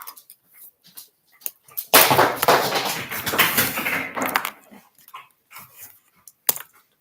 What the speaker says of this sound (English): Please excuse the dog making a mess in the back.